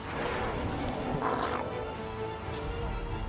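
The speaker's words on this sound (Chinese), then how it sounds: "狗狗就会疯狂地发出警告。" A Shiba Inu growls in warning, a low rough rumble that runs steadily through a noisy, close recording, with faint higher whines mixed in.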